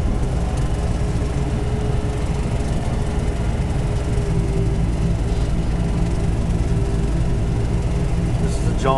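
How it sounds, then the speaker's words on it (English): A John Deere 3720 cab tractor, roughly 45 horsepower, runs steadily with a continuous low engine drone and rumble throughout, fairly loud and close, with no voices over it. "John Deere 3720 cab tractor."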